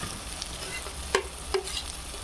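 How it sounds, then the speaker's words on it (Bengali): Chopped chilli and tomato frying on low heat in a pan, a soft even sizzle with two brief clinks of a stirring spoon, close and alone. "টমেটো ভালোভাবে অল্প আঁচে ভেজে নেব"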